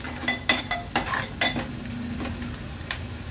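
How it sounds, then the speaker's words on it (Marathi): Turmeric and homemade Agri Koli masala stir-fried in oil in a pan, a soft sizzle under a string of sharp spoon scrapes and clinks, close and fairly quiet, with no voices. "हळद आणि मसाला तेलावरच छान परतून घ्यायचे।"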